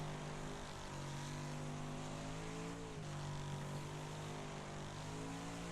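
Race car engine in the Wreckfest racing game, a steady loud drone with a strong harmonic whine that dips briefly near the middle as the car brakes on a long straight, then climbs again, with no talk.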